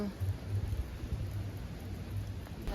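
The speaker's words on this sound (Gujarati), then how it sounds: "જોરદાર વરસાદ વરસાદ આવવા લાગ્યો છે" Heavy rain beginning to fall over a village in the season's first storm, a dense, steady rushing hiss with a low rumbling undertone that fills the whole stretch.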